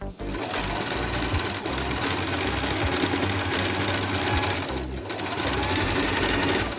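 A sewing machine runs steadily and close, stitching the edge trims of a patchwork top in one loud, continuous mechanical whir with a brief pause midway.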